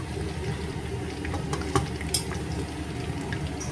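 Chicken pakora frying in hot oil at a picnic gives a steady, close crackling sizzle with a few sharper pops and clinks.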